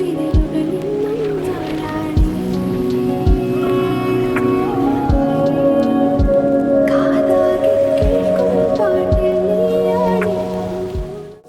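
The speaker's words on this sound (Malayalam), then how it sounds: "നല്ല കടുത്ത മഴയും മഞ്ഞുമാണ് വാഗമൺ." Heavy rain falls at the Vagamon hill station, a steady wash with sharp, evenly spaced knocks and a tonal, voice-like layer running over it throughout.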